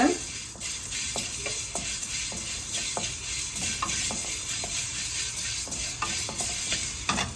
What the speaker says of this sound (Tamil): இதையும் சேர்த்து நல்லா ரோஸ்ட் பண்ணிக்கோங்க